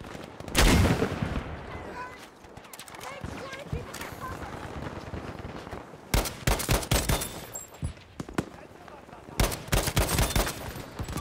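Gewehr 43 semi-automatic rifle fire in the shooter game Battlefield V, with loud, sharp shots in quick bursts and ringing tails over a busy battlefield. Distant gunfire and game noise run underneath.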